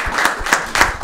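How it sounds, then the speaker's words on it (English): A round of applause closing a panel session at an anniversary conference on Carl F. H. Henry's book; clapping comes in several distinct pulses rather than a dense wash, fairly loud and close. "how about a round of applause for this"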